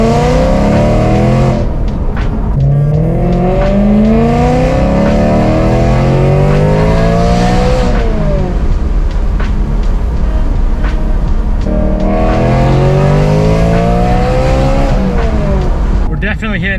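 A supercharged BMW M3 engine revs hard through repeated rising acceleration sweeps, loud and close from inside the car, with brief pauses between gear pulls and occasional voice beneath the engine.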